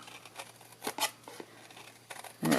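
Small snips cut paper in a run of short, crisp snipping clicks, close and fairly quiet, ending in a louder crinkling rustle, with no talk.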